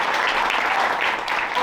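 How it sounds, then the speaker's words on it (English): An audience at a demo day event applauds, dense continuous clapping holding at an even, fairly loud level for the whole short stretch. "let's give them one more round of applause"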